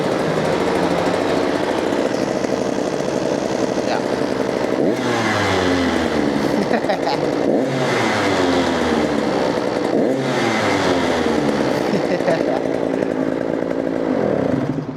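A KTM SX85 two-stroke dirt bike engine runs loud and close after starting, a raspy high idle with rising and falling revs in repeated sweeps, settling slightly as it warms, with no talk over it.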